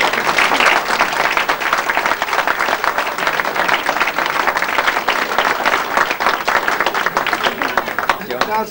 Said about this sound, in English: can I ask you to join me in a round of applause for all three speakers again